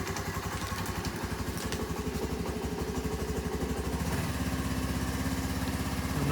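A Honda Navi motorcycle engine runs on a cold start, a close, steady clattering putter whose pulses quicken and grow louder as the throttle is opened.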